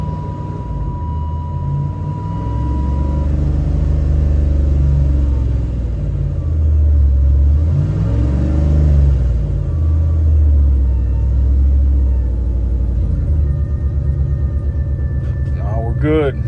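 A car engine runs after a jump from an old analog Sears battery charger, a steady low rumble with a brief rev in the middle, close and continuous while a person talks.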